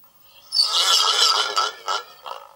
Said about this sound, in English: It's a cup on the end of a string, and it sounds like this.